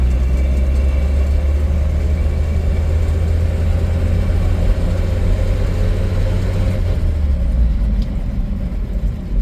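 A 1959 Chevrolet Apache truck rolls slowly around a tight cul-de-sac, its engine a steady, close, low rumble that holds even for most of the stretch before easing slightly near the end.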